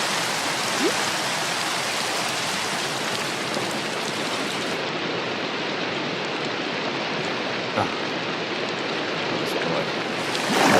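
Steady rain falls throughout in a modded survival video game, a dense, even hiss close around the listener with no let-up and only a tiny spoken word near the end.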